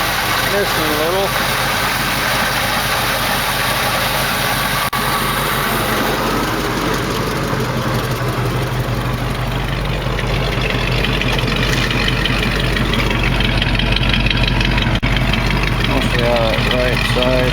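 A 1968 AMX V8 engine idling with a slight miss, a steady low rumble heard up close and continuously, while someone talks over it.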